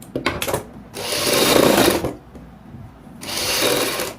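Sewing machine stitching a kurti neckline in two long, steady whirring runs separated by a brief lull, with a few short bursts at the start, close and continuous with no voices.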